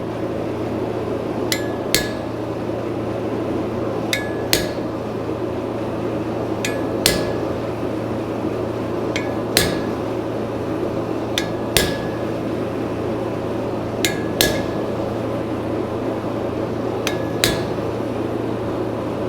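A hot cut chisel struck into a hot steel horseshoe to cut lines into a horse-head mane, heard as sharp metallic hammer strikes in pairs, roughly every two and a half seconds, over a steady forge hum.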